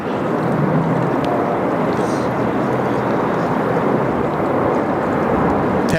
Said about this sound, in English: A330 off to Denpasar this afternoon.